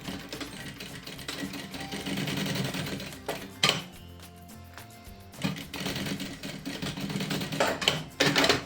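Sewing machine stitching close along the edge to join the bottom panel to the gusset of a preschool backpack, a busy mechanical whirr that runs almost continuously with a brief slowdown midway, close by and without speech.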